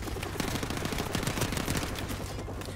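Rapid automatic gunfire crackles steadily in Call of Duty: Modern Warfare Remastered, a dense burst of game shots throughout the moment with no voices over it.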